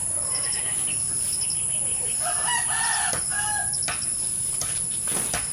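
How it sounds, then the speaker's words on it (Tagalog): Loose farm chickens, with a rooster crowing loudly mid-clip over steady clucking and a constant high insect or cricket hum in the background. "nakawala kasi ang mga manok."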